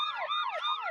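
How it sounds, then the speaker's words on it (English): Police sirens wail in a rapid, repeating up-and-down sweep, loud and steady, filling a brief moment with no talk. "The sirens are closing in."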